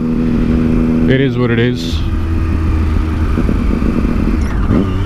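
Triumph Daytona 675 motorcycle riding at speed, a steady engine drone with rushing wind underneath, while a rider talks briefly over it.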